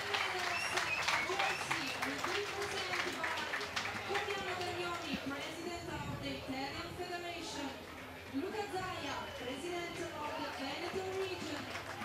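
Crowd applause and cheering for riders at the 2023 Gravel World Championships in Veneto, heard under continuous commentator speech with a lively, noisy outdoor crowd throughout.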